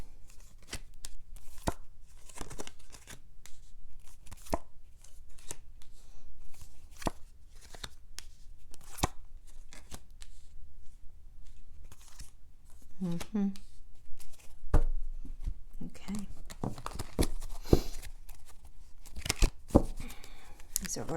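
Tarot cards riffled and shuffled by hand in short bursts of papery flicks and taps, close and fairly soft, with a person speaking briefly.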